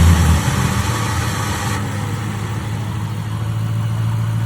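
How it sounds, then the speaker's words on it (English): A 1998–2002 Mercury Grand Marquis engine, just fitted with a new PCV valve, catches after a brief crank and settles into a steady, close, rumbling idle with a low hum that carries on unbroken, with no talking over it. "All right, Daniel, crank the engine."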